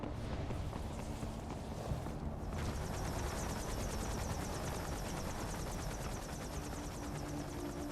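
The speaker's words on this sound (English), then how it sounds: "Bloody helicopters." Helicopters in the video game Metal Gear Rising: Revengeance give a steady, loud rotor chop that runs through the whole stretch, with a rhythmic beating that sharpens after the first couple of seconds. No one speaks.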